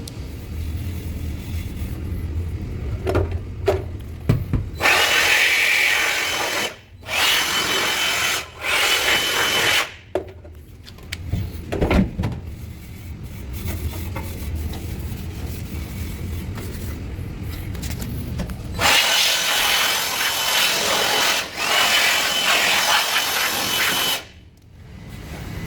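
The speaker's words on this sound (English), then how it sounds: "wipe the motors down, blow these sections out" A loud, close, roaring blast of air is used to clean out the fan sections of a water source heat pump at an industrial site. Long steady bursts stop and start abruptly, with a few short pauses between them.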